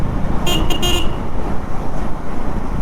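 A vehicle horn blares a few short toots close by on a narrow, congested road, over a continuous rumble of engines and traffic noise.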